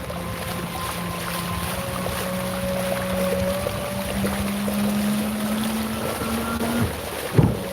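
An electric kayak motor running at three-quarter throttle on a lake, a steady whine with a slowly rising pitch over wind and water noise, then a sudden drop near the end.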